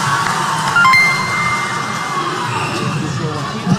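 A netball crowd at a Tonga versus Fiji match cheers loudly and continuously, with excited shouts and whoops over a dense roar of voices.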